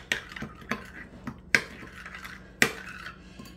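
Italian seasoning, garlic powder and salt being mixed in a bowl, with a handful of sharp, close utensil clinks and taps at uneven intervals over soft scraping.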